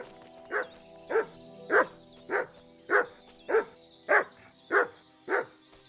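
A dog in Kingdom Come Deliverance 2 barks in an even series of about nine sharp, loud woofs spaced roughly half a second apart, with no one speaking.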